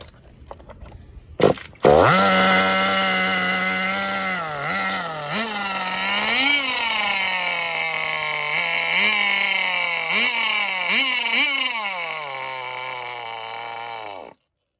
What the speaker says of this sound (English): The CEN just ran. I was totally convinced this motor was toast.